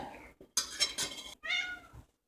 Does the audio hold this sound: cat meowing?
yes